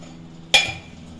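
A metal spoon strikes a pan once with a sharp, bright clink while ghee goes in for carrot halwa, followed by a faint scrape in a quiet kitchen.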